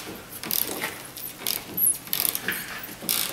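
A ratchet clicks in short bursts while turning a bolt on a Chrysler Pacifica A/C condenser, quick close clatters separated by brief pauses.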